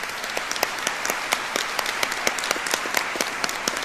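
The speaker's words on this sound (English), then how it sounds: "I would like you to join me in applause for your faculty" Nursing graduates and guests at a School of Nursing pinning ceremony applaud their faculty, a steady crowd clapping with sharp individual claps popping out close by, sustained and lively throughout.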